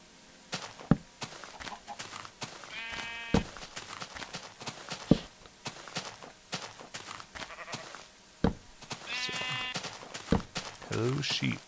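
Sheep in the Minecraft video game give a couple of short, wavering bleats amid sharp footstep-like clicks, while a person talks quietly over the game sounds.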